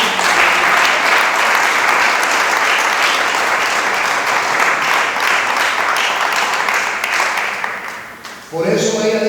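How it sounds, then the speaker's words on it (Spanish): A church congregation claps and applauds in a loud, sustained burst of dense hand-clapping that fills the room, fading briefly near the end before a voice resumes speaking. "Denle palmas al Señor."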